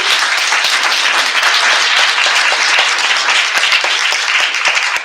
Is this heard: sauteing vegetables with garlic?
no